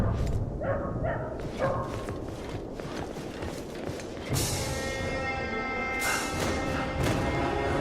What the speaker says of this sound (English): What in damnation is that dog going on about?